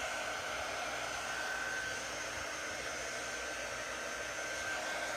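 A hair dryer blowing steadily to dry paint on a craft project, its constant close whooshing roar with a faint whine running unbroken from start to finish.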